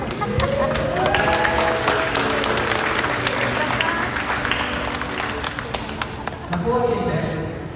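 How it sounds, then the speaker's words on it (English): Wedding guests applaud loudly and continuously in a crowded reception hall, dense clapping mixed with chatter, shouting voices and occasional cheers throughout. "let us give them a big round of applause"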